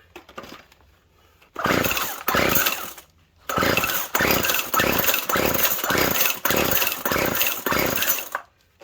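A Poulan string trimmer under repair, apparently starved of fuel, snarls into rough revving bursts: a brief burst, a pause, then a longer stretch of pulsing, sputtering engine noise that cuts out at the end.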